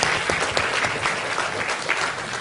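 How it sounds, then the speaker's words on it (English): Audience at a Martinhal business event claps as a founder is invited on stage, a brief, dense burst of applause filling the room. "A round of applause."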